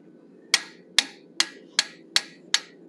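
Six sharp hammer blows ring out at a steady half-second rhythm as a 1/8 inch fuller is struck while forging a wolf head, each strike clear and metallic over a quiet background.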